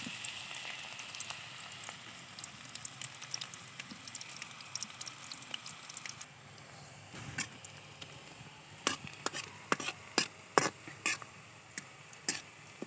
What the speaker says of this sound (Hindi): यहाँ हमने 1 खाने का चम्मच जो है ना लिया है घी का, उसमें हम प्याज डालेंगे।